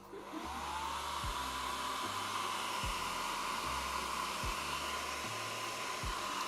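A hair dryer runs at a steady, constant whir close by, drying a freshly painted Blood Angels miniature arm, with a low, regular pulsing rhythm beneath the airflow.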